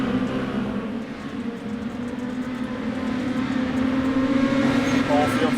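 Four-cylinder mini stock race cars roar around the oval at Limaland Motorsports Park, a steady, loud, droning engine pack that swells slightly as the field charges into the turn.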